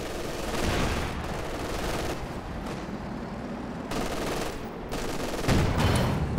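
Sustained bursts of machine gun fire from two MG teams in a Company of Heroes battle, a dense continuous rattle with occasional heavier thumps, steady and fairly loud throughout.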